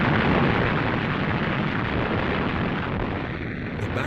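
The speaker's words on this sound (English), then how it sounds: "the British opened up an artillery bombardment on Rommel's positions" A WWII British artillery bombardment at El Alamein in 1942 roars as a continuous, dense rumble of distant gunfire and booms, loud and unbroken throughout with no talk.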